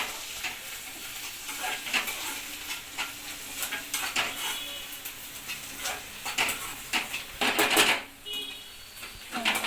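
Onions and coriander frying for a Telugu chicken curry, stirred in a pan: a steady sizzle under repeated close scraping and clinking of a spoon against the metal, rhythmic and fairly loud, without speech.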